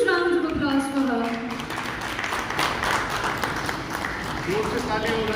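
An audience at an award ceremony claps for an honoured guest, a broad wash of applause running under a host's loud voice speaking over it.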